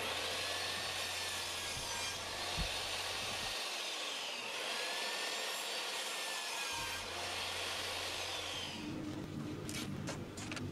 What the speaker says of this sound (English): I'm just carefully measuring each one and cutting them to size